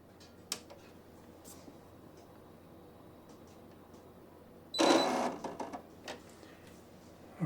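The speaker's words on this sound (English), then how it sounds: "You hold these two buttons in and you turn the machine on." A Brother PE900 embroidery machine switches on, giving a few faint clicks before a loud burst of whirring and ratcheting mechanism noise that fades into scattered ticks.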